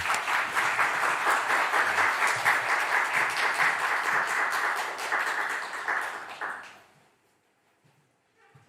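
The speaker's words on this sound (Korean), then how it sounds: "우리 나오실 때 크게 박수로 환영해 주시면 감사하겠습니다" An audience at a church conference lecture claps steadily for several seconds, dense and even, then the applause dies away into near silence.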